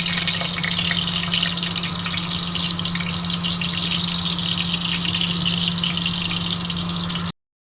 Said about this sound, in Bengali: পটলগুলো আমি এখন ভেজে নেব।